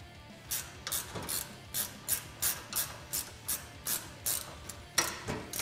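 Hand ratchet tightening mounting hardware on a Polaris RZR XP 1000 cargo system, a steady run of about a dozen sharp clicking bursts at an even rhythm, close and fairly quiet, with no talking.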